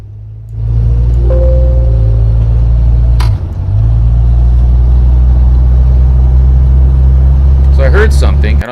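A grey-interior 1982 DeLorean DMC-12 with an automatic transmission driving, its engine a loud, steady low rumble throughout, with a brief dip midway and faint talk near the end.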